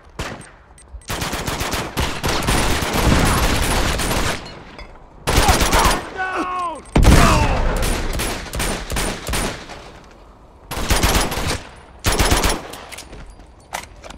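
Rapid bursts of gunfire crack loudly in a video game shootout, in Uncharted 2, volleys separated by brief pauses, with a few whistling, sweeping effects in the middle.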